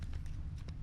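Horse hooves clopping at a run in The Witcher 3, several quick hoof strikes in an uneven gallop over a steady low rumble of ambience.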